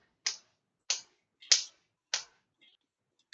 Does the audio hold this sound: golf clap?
yes